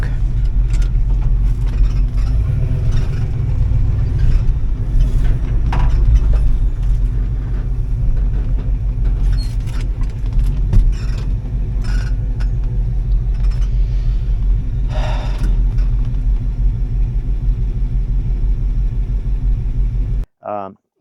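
An old Ford bumpside pickup truck driving, a low steady engine rumble with road noise throughout, close and loud, with people talking over it before a sudden cutoff near the end.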